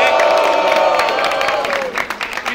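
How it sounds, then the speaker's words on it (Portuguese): A crowd at a freestyle rap battle in Itaquera, São Paulo, claps and cheers in a dense, steady wash of applause that holds throughout and thins slightly at the end. "salva de palmas pro Yongui"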